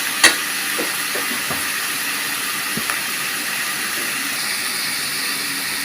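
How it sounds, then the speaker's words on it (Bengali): Tomatoes frying in a pan for a fish curry, giving a steady bright sizzle and hiss throughout, with a sharp clink near the start and a few faint taps. "টমেটোগুলো দিয়ে দিলাম। 2 থেকে 3 মিনিট ভেজে নিতে হবে।"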